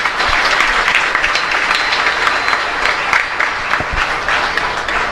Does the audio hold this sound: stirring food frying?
no